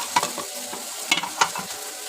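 Shrimp sautéing in hot oil with turmeric and salt, a steady close sizzle broken by a few sharp scrapes and clinks of a spatula stirring the pan.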